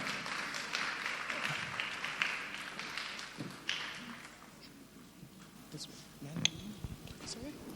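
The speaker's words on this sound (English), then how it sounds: "A round of applause for her." Applause from a TEDx Youth audience, scattered clapping and taps that thin out and fade over time, with a few louder hits near the end.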